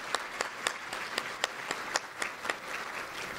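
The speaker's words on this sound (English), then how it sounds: "Let's give them a round of applause" Audience applause closing a round of introductions at a League of Women Voters centennial breakfast forum, heard as sparse, rhythmic individual claps standing out sharply over a softer bed of clapping, steady for a few seconds with no talk.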